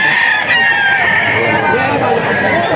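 A white kelso gamefowl crows loudly and close by at a busy gamefowl seller market, its call ringing over crowd chatter and people talking nearby.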